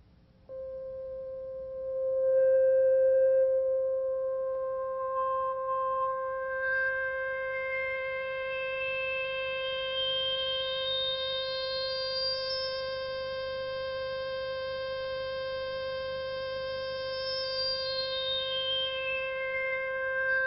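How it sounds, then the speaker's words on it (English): Synthesizer with high filter resonance slowly sweeping through a steady tone, bringing out individual harmonics one after another as a whistling upward then downward glide, sustained and moderately quiet with no voices. "Sweeping the filter with the resonance turned up allows us to focus in on individual partials of a wave's spectrum."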